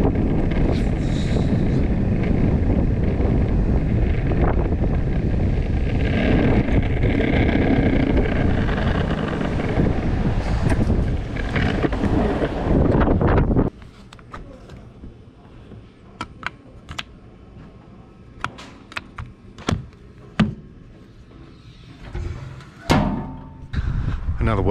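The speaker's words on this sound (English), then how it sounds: "Wind's pushing me back up the hill today." Heavy wind buffets the microphone while riding uphill, a loud continuous roar for about half the span that then drops away to quieter scattered knocks and clicks.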